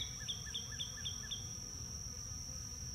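Honey bees hum at a hive during a July inspection while pollen is being carried in. A faint, steady low drone runs under a quick series of five short, high chirps.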